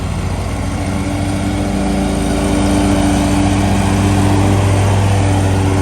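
Ferris riding lawn mower mowing grass on a cold day, its engine a loud, steady, close drone that hums without a break throughout.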